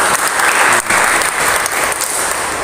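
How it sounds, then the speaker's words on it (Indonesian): Audience at a church seminar applauding together, a loud, dense and sustained wash of clapping that holds steady for a couple of seconds without speech. "Kita tepuk tangan satu kali lagi ya."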